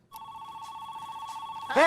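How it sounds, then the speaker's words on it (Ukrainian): A telephone rings with a steady electronic tone held for about a second and a half, loud and close, before a louder burst of sound cuts in at the end. "візьми телефон"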